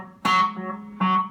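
Ibanez Echo Shifter analog delay pedal producing a spacey effected tone with repeating echoes, two swelling bursts about a second apart that decay in a smeared, pitched tail, close and moderately loud.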